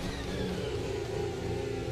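Steady, loud whine of a Formula 1 race car engine in a racing sim game, held at a constant pitch without pause.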